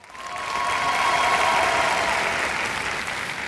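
An audience applauds at a televised music contest show, a steady burst of clapping that swells quickly and holds for several seconds before easing slightly.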